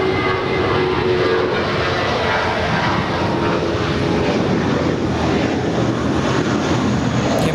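A Lufthansa airliner arriving at LAX gives a loud, close, continuous engine roar that stays broad and steady throughout, with no voices.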